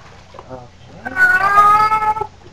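A wet cat being bathed lets out a long, drawn-out wailing meow, loud and close, after a brief softer mew at the start.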